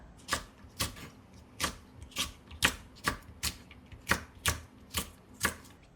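A knife chops small Cheongyang chili peppers on a cutting board in steady, evenly spaced strokes, about two per second, each a crisp close tap with no talking.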